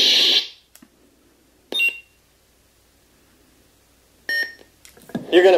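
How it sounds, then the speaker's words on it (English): Electronic beeps from a Nano V4 soundboard in a converted 2002 Master Replicas Attack of the Clones Anakin lightsaber, a few short bright tones separated by silence, near and clear, with a brief voice near the end. "you'll hold the button down and you wait for the first beep"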